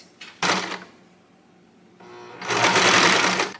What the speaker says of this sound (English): Want to see me sew really fast?